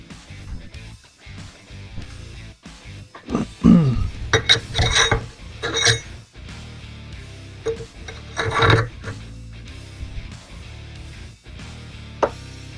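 A steel file works a guard fitting on a handmade hunter knife, guided by a file guide, giving irregular rasping strokes with metallic scrapes and clinks, moderately loud and close, with no voices.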